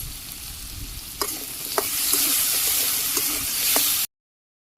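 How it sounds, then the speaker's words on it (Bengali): Vegetables hit hot oil with fenugreek seeds and cumin in a Bangladeshi home kitchen over a clay stove. There is a loud continuous sizzle with a few sharp stirring clinks, then the sound cuts off abruptly near the end. "তেল গরম হয়ে গেছিলো আমি মেথি আর জিরা দিয়ে দিছিলাম সবজি দিয়ে দিই"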